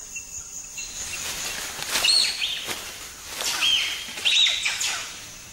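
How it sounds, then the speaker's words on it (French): Diana monkeys in the forest of Taï National Park give soft contact calls: scattered high twittering chirps at moderate distance over a steady hum of insects. "Pour le moment, on entend encore le gazouillement général de contact."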